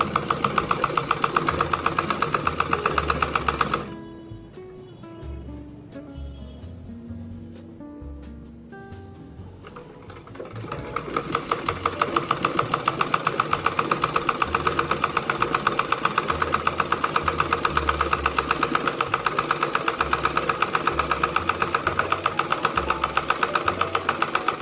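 A sewing machine stitches a blouse in fast, steady rhythmic chatter, close and loud, pausing briefly in the middle before running on again.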